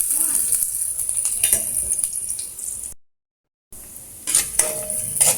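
Onion and garlic frying in a pan while being stirred, a steady bright sizzle with scraping stir noises that cuts out briefly and then resumes, with occasional clinks.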